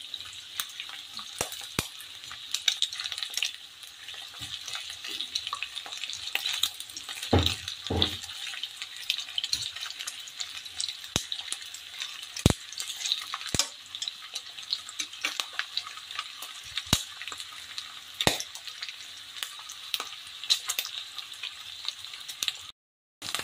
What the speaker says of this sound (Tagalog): Nag-golden brown na at tumatalsik, nakakatakot.